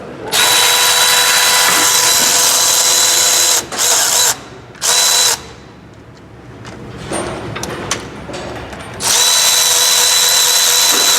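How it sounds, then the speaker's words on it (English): A power tool unbolting the fuel pump from a Chevy engine during a cam and lifter teardown whirs loudly in long bursts, with short spurts in between and a quieter gap of ratcheting and handling before a final long run. "Figure you can watch me unbolt the fuel pump too."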